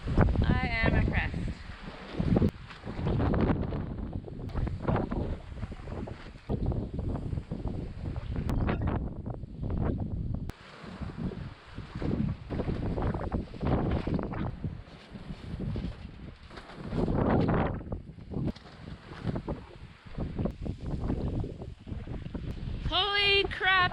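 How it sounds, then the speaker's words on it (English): Strong gusting wind buffets a polytunnel on an off-grid homestead, roaring steadily and loudly near the microphone with rushing surges throughout. "Holy crap, it's windy today."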